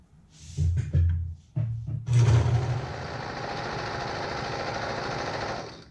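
A sewing machine stitches a jacket cuff seam, starting with a few short bursts and then running in a steady, close mechanical whir for several seconds before stopping.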